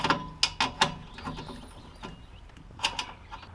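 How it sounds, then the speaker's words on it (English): An 8mm wrench ratchets against studs on an air hose reel, with several sharp metallic clicks in quick bursts up close, then quieter fumbling and a final pair of clicks. "next we're going to remove these two studs with a 8mm"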